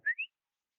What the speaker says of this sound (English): give him a little whistle